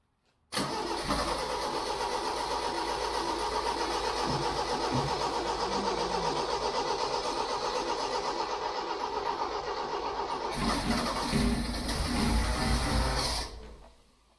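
A 1975 Toyota Carina 1.6 TA12 engine starts with a fuel-feed problem, cranking and catching into a steady, loud mid-pitched running that holds for about twelve seconds, then flares briefly before cutting off abruptly.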